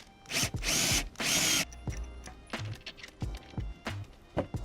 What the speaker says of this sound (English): now I'm just gonna tighten them